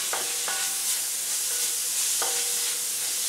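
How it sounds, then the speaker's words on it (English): Zucchini and pork stir-frying in a pan, a steady close sizzle with a few clinking utensil strokes scraping through the food at irregular intervals, with no talking. "And then you stir and fry like this."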